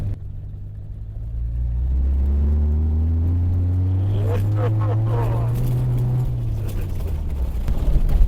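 A car engine revs during a starting attempt, a loud close rumble that climbs in pitch, holds, then falls away, with a voice heard partway through.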